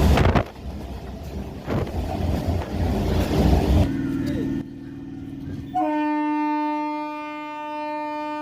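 A train rumbles along loudly with rattling wagons, then slows and fades before a long, sustained horn sounds near the end.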